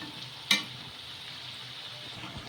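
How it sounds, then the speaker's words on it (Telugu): Rice bondas deep frying in oil, a quiet steady bubbling hiss with one sharp clink of a utensil early on. "ఇలా గోల్డెన్ కలర్ వచ్చే వరకు ఇంకా ఫ్రై చేసేసుకోవాలి చూడండి ఆయిల్లో ఇలా మధ్య మధ్యలో కలుపుకుంటా ఉంటే"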